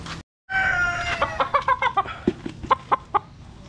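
Battle cock roosters clucking and calling at feeding time, a busy run of short, close, rhythmic clucks and crowing-like calls with no talk.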